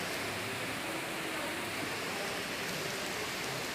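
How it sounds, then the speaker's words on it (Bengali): Dense, steady roar of heavy rain pouring down at night, a constant broadband wash with no break, fairly loud and close. "সেই বৃষ্টি মুষলধারে হচ্ছে।"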